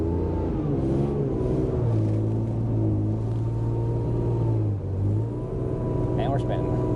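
A vehicle engine at a farm revs steadily while its wheels spin, a loud, continuous droning rumble whose pitch holds and dips slightly near the end, with a voice talking over it.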